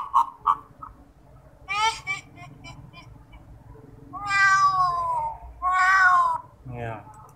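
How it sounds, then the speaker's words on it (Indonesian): A cat meows several times in a Scratch horror game, drawn-out and wavering, with a couple of short chirpy sounds before, fairly close and loud. "karena saya suka kucing, makanya saya masukkan suara kucing"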